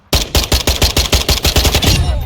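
Automatic gunfire shooting through a wall in Call of Duty DMZ: a loud, close burst of about a dozen rapid, evenly spaced shots.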